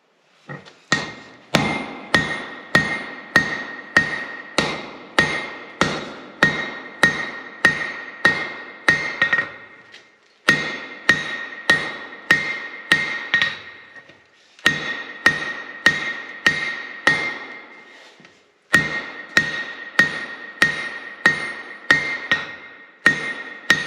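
A hammer strikes hot steel on an anvil, forging bolt jaw tongs in a rapid, regular series of sharp ringing blows, grouped in runs with brief pauses between them, close and loud with no voices.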